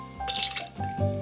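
Gin poured into a jigger for a Last Word cocktail, a brief close liquid pour with dripping and splashing, lasting about a second.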